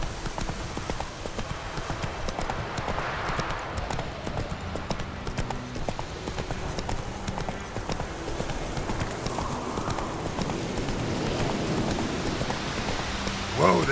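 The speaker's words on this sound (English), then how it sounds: "Whoa there, Roach" Horse hooves clip-clopping at a steady gait in The Witcher 3, continuous and fairly loud throughout with a brief whinny-like sound, no talking over it.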